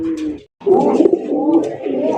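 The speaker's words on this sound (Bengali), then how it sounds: "মাশাআল্লাহ কি দেখাইতেছেন মামা দেশি গোল্লা কবুতর" A desi golla pigeon, a native round pigeon in a vegetable-green colour, gives a close, loud cooing call with a short pause, then a longer throaty warbling coo.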